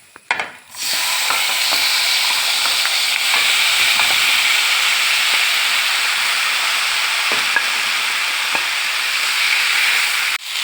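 Pieces for a Kuttan moori fish soup sizzle and crackle in hot oil with curry leaves, making a loud, steady frying hiss close by with occasional stirring clicks, no talk.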